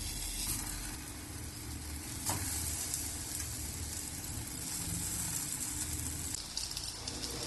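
Sweet potato tikki patties fry in a lightly oiled hot pan with a steady close sizzle and faint stirring scrapes, one sharp tap near the middle, no talking.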